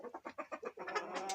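Last year's rooster in a snowy Cherkesovsky farmstead during a blizzard, giving a quick run of soft rhythmic clucks that rise into a longer crowing note, faint and brief.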